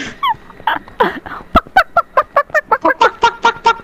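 A voice imitates a clucking chicken during an H1Z1 battle royale match: a loud, close run of quick, evenly spaced clucks that speeds into a steady rhythmic burst.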